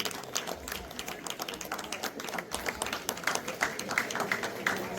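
An audience at a Tamil award ceremony welcomes a speaker to the stage with steady, fairly faint applause that holds for several seconds.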